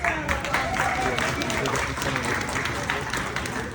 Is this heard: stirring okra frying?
no